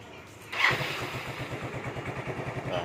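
A Yamaha Fino scooter engine catches after a quiet moment and settles into a steady, rapid putter, close and fairly loud, with a slight rhythmic pulse throughout.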